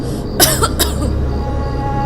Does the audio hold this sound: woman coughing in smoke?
yes